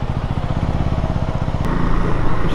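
A Yamaha MT-15 motorcycle engine drones steadily while riding, a loud, close, pulsing exhaust note that swells slightly toward the end, with wind rush over it.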